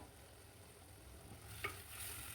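Taro and peas stirred in a cooking pan, a faint low sizzle with soft scraping and a single brief clack near the end, quiet and close with no voices.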